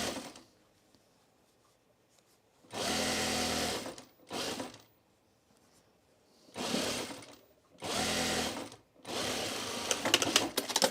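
Close and clear, a sewing machine stitches fabric bowl cozies in four distinct bursts of fast whirring clatter separated by quiet gaps, the last run lasting longest.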